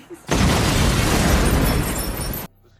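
A single loud, sustained blast of explosive noise inside a supermarket, a dense roaring burst lasting about two seconds before cutting off abruptly.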